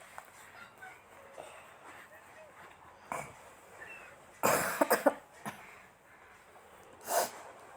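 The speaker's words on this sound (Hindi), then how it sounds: "इतनी खांसी हो रही है मुझे" A burst of several harsh coughs close by in a quiet room, followed by a lone cough a couple of seconds later.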